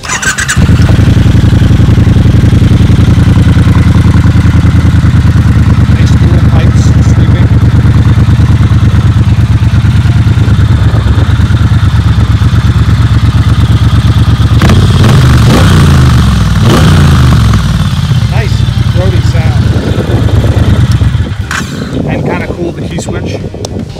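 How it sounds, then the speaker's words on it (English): A 2018 Triumph Bonneville Bobber motorcycle engine starts and idles loudly up close, a steady deep rumble held for about twenty seconds with a few revving swells midway before it cuts off. "let's start that up so you can hear it"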